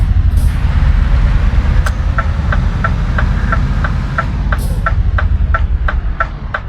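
Scania S730 truck engine idling in a video game, a loud, low, steady rumble with a regular ticking pulse and two short hisses of air brake release.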